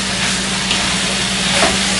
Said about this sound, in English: So I'm kind of halfway through, I think, sauteing the veggies.